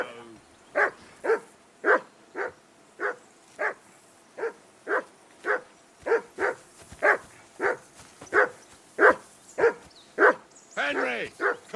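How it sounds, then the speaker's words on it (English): A dog in the medieval video game Kingdom Come Deliverance II barks steadily and loudly, about twenty evenly spaced barks in a row, ending in a few higher whimpering yips. "Call that dog to heel!"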